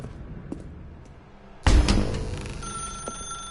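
A telephone rings in The Stanley Parable, a sudden loud ring bursting in after quiet room tone and sustaining with a bright electronic tone until the end.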